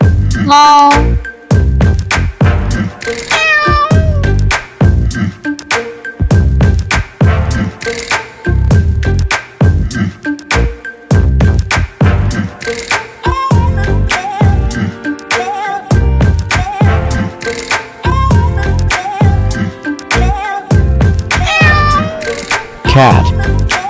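Cat meowing amid loud music and cartoon effects for a children's kitten emoji drawing lesson, with several short mews standing out repeatedly over the busy backing track.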